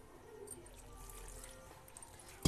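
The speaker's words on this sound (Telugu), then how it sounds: "ఇప్పుడు కొద్దిగా వాటర్ వేసుకుని కలుపుకుందాం." Water poured into onion bonda batter in a bowl, a soft steady trickle running for a couple of seconds, close and quiet with no talk.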